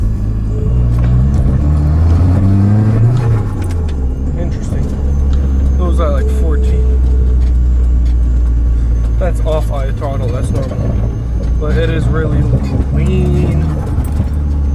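A Nissan 240SX engine idles roughly with a misfire, a loud low rumble that stumbles unevenly while people talk nearby over it.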